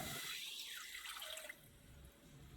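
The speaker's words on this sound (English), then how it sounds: "So I'm gonna go ahead and get the water poured in." Water is poured from a tap into a cooking pan on a home kitchen stove while making Thai coconut curry chicken; a soft, fairly faint steady splashing runs throughout.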